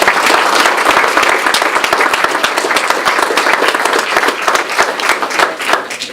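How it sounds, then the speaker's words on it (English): An audience claps for several seconds at a health alliance event, producing dense, loud, steady applause with no pause. "give them a round of applause as well"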